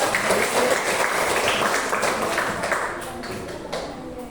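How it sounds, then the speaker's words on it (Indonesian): Children in a primary school classroom clap together in a sustained, fairly loud round of applause that gradually thins out over several seconds. "Silakan tepuk tangan waktu bisa."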